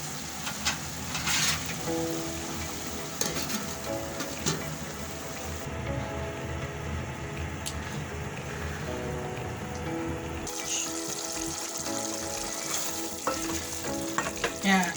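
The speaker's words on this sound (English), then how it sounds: "Now it's just sauteing till my French beans are cooked for a little while." Tomatoes and French beans sauté for masala rice in a continuous crackling sizzle, with repeated stirring scrapes and occasional clinks of utensil on pan throughout.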